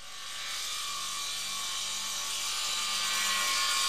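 A DeWALT 720 radial arm saw cuts through its wooden fence, a loud steady whining roar that builds slightly over a few seconds and holds without a break.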